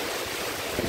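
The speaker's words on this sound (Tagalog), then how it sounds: "Sinasabayan ng malakas na hangin. Malakas ang ulan." Strong typhoon wind and heavy rain at a resort, a dense, loud broadband rush of rain and gusts filling the whole second with no pauses.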